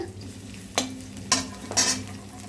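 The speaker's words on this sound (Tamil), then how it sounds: "இப்போ வந்து வெங்காயத்தை எண்ணெய் சூடானதும் அதில் போட்டு நல்லா வதக்கிக்கலாங்க" Onions frying in hot oil for vegetable fried rice, with a steady low sizzle and a few sharp stirring clinks and scrapes of a utensil against the pan, close and fairly quiet, no voices.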